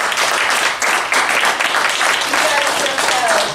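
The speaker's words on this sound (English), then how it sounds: "And I want a round of applause for Esther" Audience at a neighborhood association meeting clapping in a steady, dense round of applause, fairly close and continuous throughout, with a few voices mixed in.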